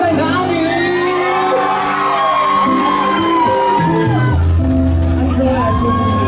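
A crowd at an outdoor temple celebration concert screams and cheers, loud overlapping shouts and whoops from many voices close around, with amplified sound swelling beneath.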